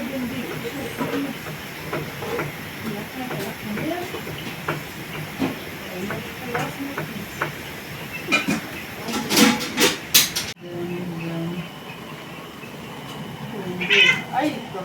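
A kitten meows in short repeated cries mixed with hissing noise, close by, while someone talks over it throughout, ending with a louder burst of sound.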